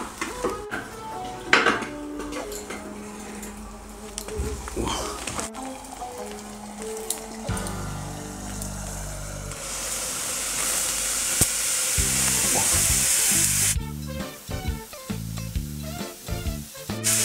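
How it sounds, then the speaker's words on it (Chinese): Liquid nitrogen poured onto cream in a bowl while it boils off, heard as a rushing hiss and bubbling with clattering metal cutlery and dish knocks; close and busy, with no voices. "现在直接把液氮倒进去浸泡这个奶油。"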